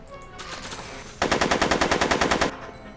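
Rapid automatic gunfire in the video game Back to the Future: The Game, a loud, steady burst of evenly spaced shots lasting over a second, preceded by a brief rising whoosh.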